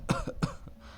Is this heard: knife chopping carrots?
no